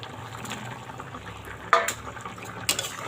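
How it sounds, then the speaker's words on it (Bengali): Hilsa fish pieces go into a pan of simmering potato curry, making a soft continuous bubbling sizzle broken by two sharp clatters of something being placed in the pan, with no talking. "তো এবার আমি এর মধ্যে মাছগুলো তুলে দেবো।"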